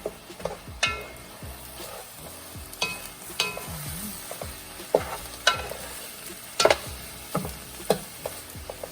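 Oxtail curry being stirred in a pot, with a spoon repeatedly scraping and knocking against the pot in an irregular rhythm over a low simmering bubble, close and fairly loud, no voices.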